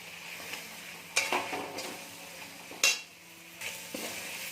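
Chopped tomato, added to chicken cooking with cabbage, fries in a pan with a low steady sizzle, broken by a few sharp clinks and scrapes of a spoon against the metal as it is stirred.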